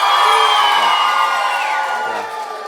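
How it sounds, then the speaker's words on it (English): Schoolchildren at Urmston Junior School cheer for Man City during a visit from Frank Lampard, a sustained, high-pitched crowd of young voices that holds steady and then tails off slightly. "Let's have a big cheer for Man City."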